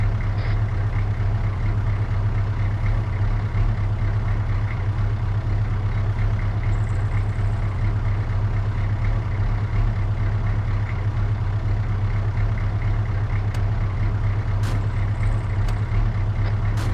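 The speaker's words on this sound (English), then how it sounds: "Go ahead and turn the engine off." A vehicle engine idles in the Arma 3 video game, a steady, loud low rumble running unbroken throughout, with a few faint clicks near the end.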